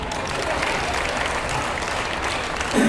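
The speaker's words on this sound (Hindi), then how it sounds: "एक बार ताली बजा के मुझे बता दो कि आप लोग सब जिंदाबाद" Audience at a Hindi comedic poetry show breaking into clapping, a dense burst of many hands applauding together in a hall, steady and fairly loud for about three seconds, lifting slightly at the end.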